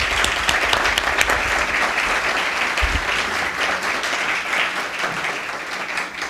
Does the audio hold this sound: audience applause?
yes